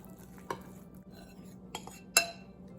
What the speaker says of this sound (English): You don't need to really beat this, you just need to mix it together.